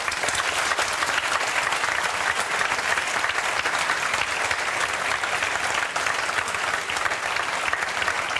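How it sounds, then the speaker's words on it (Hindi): Audience at a political gathering supporting students breaks into sustained, dense applause, steady and even throughout with faint crowd murmur beneath. "उन लोगों के लिए जोरदार ताली बजाओ तुम लोग।"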